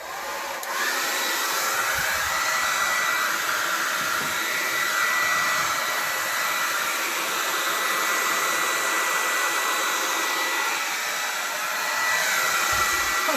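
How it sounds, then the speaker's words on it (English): A hairdryer on its high, cool setting blows in a steady loud whoosh from start to finish, close by, with no talk over it. "when I use the hairdryer"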